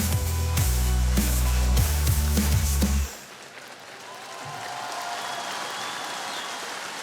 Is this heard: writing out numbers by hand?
no